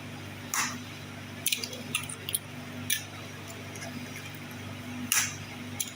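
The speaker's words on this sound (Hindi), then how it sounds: "3 अंडे शामिल करेंगे।" Three eggs go into a chicken drumstick marinade of lemon juice and papaya paste, giving a few soft wet squishes and drips, separate and close, with quiet gaps between them.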